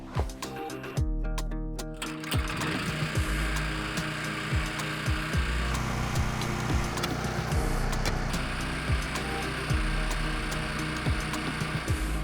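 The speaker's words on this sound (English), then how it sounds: "the auger is doing its thing. We're at about 3 feet of depth." A handheld auger bores fence-post footing holes about three feet deep in muddy garden ground, grinding and scraping steadily with repeated knocks and scrapes of wood and soil throughout, close and loud, with no talk.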